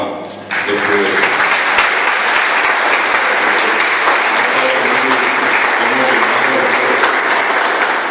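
A crowd at a Parlasur gathering with delegates from Paraguay, Argentina and Brazil breaks into steady, sustained applause that starts abruptly and holds at full strength, with a voice faintly under it.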